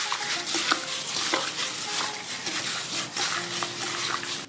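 Garlic wing sauce with light soy sauce being stirred in a pan, a bubbling sizzle under repeated scraping and clinking strokes of a utensil, close and steady with no speech.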